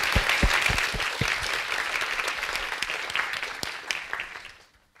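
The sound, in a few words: audience applause after a talk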